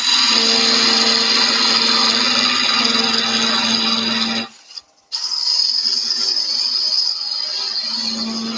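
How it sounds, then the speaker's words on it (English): A parting tool cutting into a banksia nut on a wood lathe gives a loud, steady high whirring and rasping, which drops out briefly midway and then resumes. "I just want to put a cut in where we're going to finally part off"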